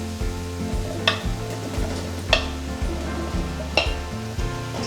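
Peeled white potato chunks tumbled into a pot for smoky bacon soup, a sizzling bed with several sharp knocks and clatters as pieces drop in, close and fairly loud, no talking.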